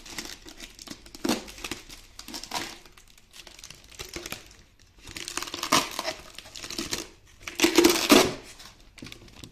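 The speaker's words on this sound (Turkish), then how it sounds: "Şuradaki bantlardan açıyoruz." A taped Disney Doorables package is opened, with crinkling plastic and tearing tape in several bursts separated by brief pauses, close and fairly loud, with no talk.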